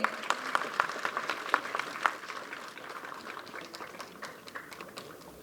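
Sparse clapping from an audience at a film title launch event in a hall, scattered hand claps forming a thin, uneven round of applause that fades slightly toward the end.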